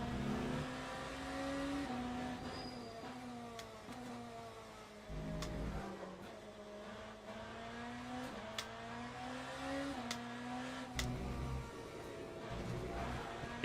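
BMW hypercar engine in the sim racing game Le Mans Ultimate at Spa, a continuous close engine note that rises and falls through gear changes and throttle lifts, with brief sharp shift clicks and no talk.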